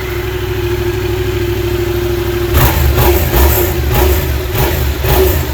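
A 2020 Yamaha XSR 700 retro scrambler on its stock exhaust idles steadily, then revs up in several repeated throttle blips, a muffled, close engine sound with no talking.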